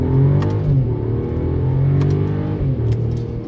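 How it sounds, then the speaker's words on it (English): A 2021 Mercedes E450 4MATIC engine revs and pulls steadily, its low rumble rising and holding strong without pause, close and loud, with no voices. "This is a car that wants to continue accelerating."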